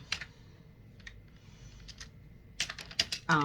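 Keys on a computer keyboard are typed close by in short, quiet bursts: a few scattered taps, a pause, then a quicker run of clacks at the end.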